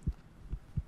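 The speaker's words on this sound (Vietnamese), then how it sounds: "Tim đập nhanh này." Fast heartbeat from the horror video game From the Darkness: three deep, soft thumps spaced evenly across under a second, low and muffled, with no voices.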